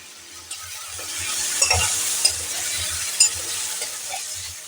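Cherry tomatoes and spices go into a hot frying pan, a steady close sizzle with scraping stirs and occasional soft knocks against the pan.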